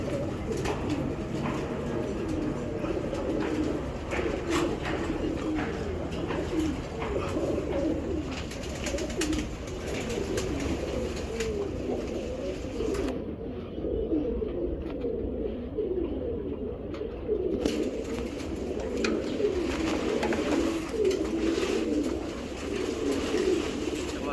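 Racing pigeons coo steadily in a loft, a dense continuous murmur of overlapping low calls close by throughout, with no talk over them.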